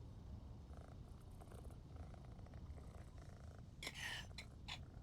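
A pet cat named Bubbles purrs softly and steadily close to the microphone, a low continuous rumble, with a few brief sharper snorts or rustles near the end.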